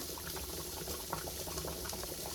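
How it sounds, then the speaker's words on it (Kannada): A pot bubbles at a steady rolling boil, continuous gurgling and hissing close by with no voices. "ಸೊ ನೋಡಿ ಕುದೀತಿದೆ, ಸ್ವಲ್ಪ ಬೇಯುತ್ತೆ"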